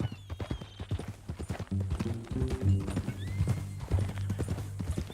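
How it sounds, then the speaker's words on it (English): Hooves clip-clop in a quick, uneven rhythm, and a horse lets out a loud, drawn-out whinny partway through, close and clear, in Red Dead Redemption 2. "That new horse?"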